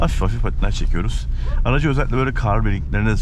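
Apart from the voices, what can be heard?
No distinct noise like a dog, phone or traffic.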